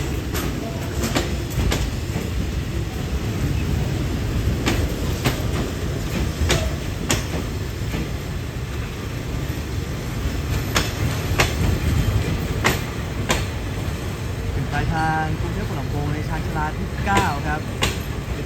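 Railway rolling stock at Bangkok railway station: a steady, loud rumble of a train with repeated clicks and clacks of wagons over rail joints, a brief squeal near the end, and faint voices in the background.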